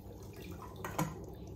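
Water splashing and trickling faintly as new fish are released into a home aquarium, a brief close splash standing out from a quiet background.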